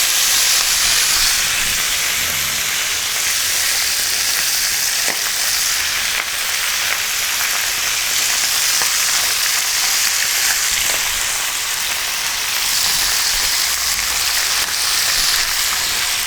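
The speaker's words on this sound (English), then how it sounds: "Because there's a little moisture in the pan, some of this is sticking, it's okay. It's just a rough sear." Chicken pieces sear in a pan with a little moisture, giving a loud, constant sizzle and hiss that fills the whole stretch without a break, close to the pan and without voices.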